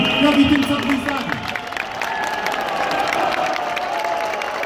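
Crowd at an outdoor rally with the President on Plac Krakowski in Gliwice, applause and cheers that fade while a voice speaks over the remaining murmur.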